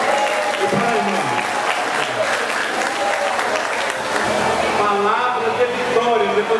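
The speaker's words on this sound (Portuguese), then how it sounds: "uma salva de palmas para ele" Audience applause at a church spring dinner, sustained loud clapping from a large crowd with voices talking and calling out over it throughout.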